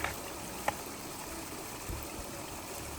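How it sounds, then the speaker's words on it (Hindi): Irrigation water runs from an upper field down to a lower one on a hillside farm, giving a steady, soft stream-like rush throughout with a couple of faint knocks, no one speaking. "ऊपर के खेत से अब नीचे के लिए पानी जोड़ रहे हैं।"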